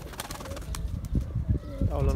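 Tumbler pigeons coo softly in low, rolling calls, with brief wing flaps and faint human voices in the background.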